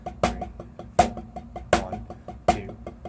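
Drums play a paradiddle rudiment pattern. Four strong, evenly spaced bass drum hits mark the beat, with lighter strokes between them, close and clear.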